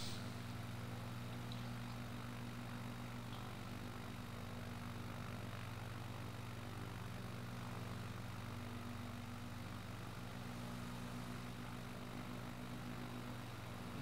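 Motorized hang glider, a deltaplane, flying over Paris toward Charles de Gaulle airport, its engine a steady, droning propeller hum that stays constant throughout, with no talk.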